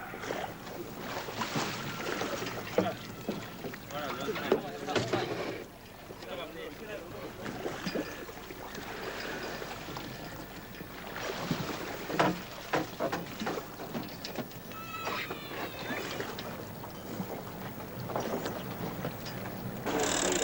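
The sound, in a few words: small sailboat sailing on water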